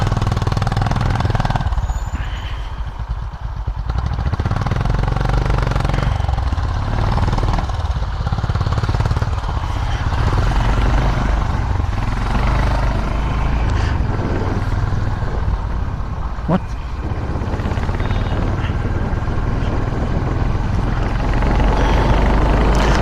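A Honda Highness motorcycle climbing a hill road in the Mukteshwar hills of Uttarakhand, its engine producing a steady, loud, continuous drone with rough low rumble that stays up close and constant throughout, without talk.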